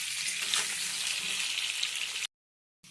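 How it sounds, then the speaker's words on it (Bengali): Potatoes fry in a pan of oil while being stirred, a steady bright sizzle running close and unbroken for a couple of seconds before cutting off, with no voices. "এইভাবে নাড়াচাড়া করে আলু ভেজে নিতে হবে।"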